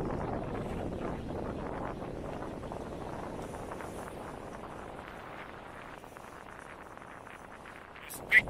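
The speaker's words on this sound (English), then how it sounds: "it's super windy, it's probably 20-25 miles an hour wind, gusting even stronger" Strong gusting wind of around 20-25 mph buffets outdoors near a small drone, a rough low rumble across the whole stretch that eases slightly midway, with a brief sharp knock at the end.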